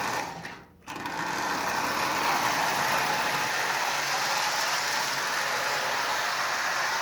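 Marx 6000 toy train locomotive with a reinstalled motor and new light bulb, running steadily: a continuous close whirring, buzzing motor hum that briefly dips near the start, then holds even and loud with no talk.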